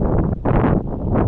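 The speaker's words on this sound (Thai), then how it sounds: "มีเสียงลมเลยที่เนาะ" Gusty wind buffets the microphone near a waterfall, producing loud, rumbling low-frequency blasts that surge and dip in uneven waves, with no voices.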